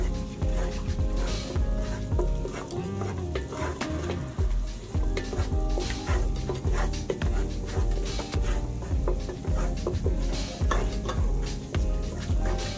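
Gumbo roux for shrimp and sausage gumbo being stirred in a pot over medium-high heat, continuous rhythmic scraping of a spoon against the pot over a steady sizzle, close and fairly loud.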